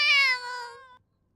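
A single close, clear cat meow, bright and drawn out for about a second before stopping, followed by silence.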